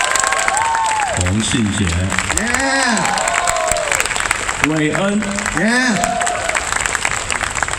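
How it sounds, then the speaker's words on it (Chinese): An audience applauds at an outdoor jazz festival performance on the Daan Forest Park music stage in Taipei, with a steady wash of clapping and some cheering under an announcer's amplified voice. "再一次把掌声给他们"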